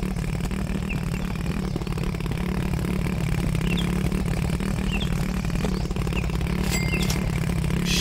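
A vehicle engine in the video game Gold Hunter runs steadily, a continuous low mechanical rumble with faint clatter, close and loud throughout without talk.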